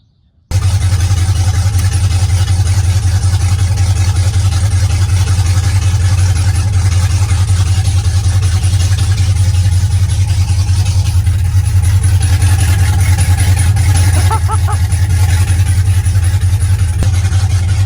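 LS-swapped car engine idling loud and close, a steady deep rumble that starts abruptly and holds throughout with slight variations.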